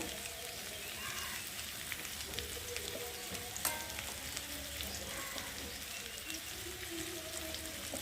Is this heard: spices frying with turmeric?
yes